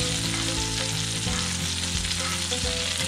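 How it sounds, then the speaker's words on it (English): Steak sizzles loudly and steadily in a tilted pan of butter, with the hot fat popping and spattering as it is spooned over the meat. Outdoors, no one speaks. "with all that butter in the pan, tilt it to the side, spoon it on."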